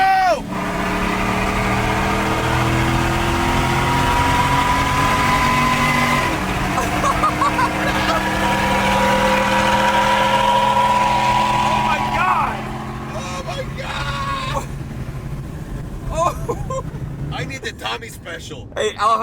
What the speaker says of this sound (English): I immediately noticed, Tommy's truck is way quicker than mine